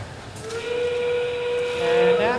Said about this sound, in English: at 30 you will hear the whistle and the lights will flash.